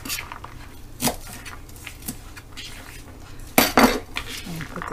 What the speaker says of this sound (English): I'm just going to chop up the greens a little bit